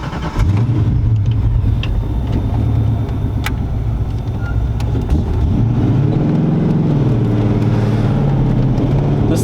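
A car with a stage 3 clutch pulls away as the drive begins, its mid-pitched engine droning steadily and loudly close by throughout, with a slight rise and fall in revs.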